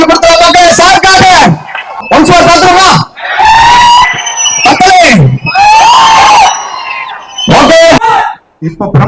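A cinema crowd at a movie promo event at Tirupur Sri Sakthi Cinemas erupts in loud, close bursts of screaming, whooping and cheering, with several short pauses between the waves.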